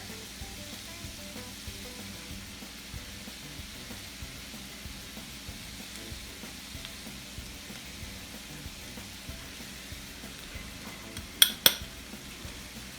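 Flour is stirred into sizzling shepherd's pie filling in a pan: a steady, close hiss of frying throughout, with two sharp metallic utensil clinks near the end.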